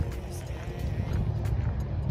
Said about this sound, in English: Don't you just love hearing the traffic during your nature walk?